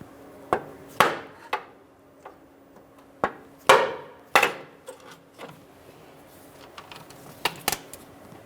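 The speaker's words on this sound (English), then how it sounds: "I'm just going to use a long pry bar and a hammer to tap it out of place" Sharp metallic hammer taps on a pry bar against a steering rack boot clamp on a 2012-2015 Honda Civic strike at irregular intervals, about a dozen clanking hits with ringing decay, close and without talk.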